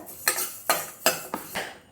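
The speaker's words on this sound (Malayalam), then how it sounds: "ഉലുവായും നന്നായിട്ടൊന്ന് ഇളക്കി ഒന്ന് മുരിഞ്ഞ് വരണം" A spoon stirs fenugreek seeds dry-roasting in a pan for mango pickle, producing four or five sharp metallic scrapes and clinks in an even rhythm, close and fairly quiet, with no voices.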